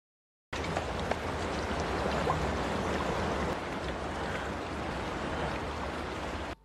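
River water flowing in a wilderness survival film, a steady moderate rushing and trickling wash that starts abruptly and continues evenly without voices.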